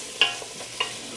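Chopped vegetables sweat in a soup pot for Amish chicken corn soup, giving a faint steady sizzle with two brief clinks or stirs against the pot.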